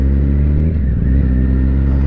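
A motorcycle's V-engine revs close by, loud and throaty with a low steady drone that swells into a rough rising rev before settling back, with no talk over it.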